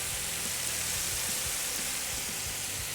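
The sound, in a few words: fish frying and sizzling in hot oil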